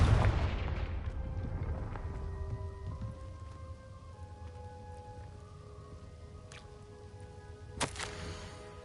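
A Confringo fire spell explodes in Hogwarts Legacy, a heavy low boom that rumbles and fades into a long hissing tail, with a sharp crack near the end.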